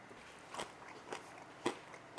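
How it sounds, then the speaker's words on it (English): Three crisp crunchy bites into a bacon-wrapped chicharrón jalapeño popper with homemade bacon, each a short close crackling snap spaced about half a second apart, alone in a quiet room. "I need to pop one of these poppers in my mouth"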